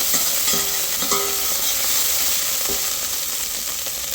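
Food sizzling steadily in a pan on a gas stove while cooking molokhia, a loud constant frying hiss with a few light clinks of a utensil.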